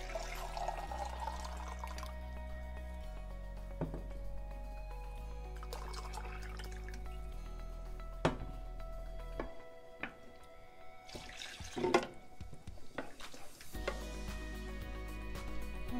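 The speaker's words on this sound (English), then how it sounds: "I'm gonna put a little bit of water too, because I don't like it too heavy" Water is poured into a pan of shrimp simmering in coconut milk, Filipino style, giving a short splashing rush partway through over a steady low cooking hum, with faint clinks around it.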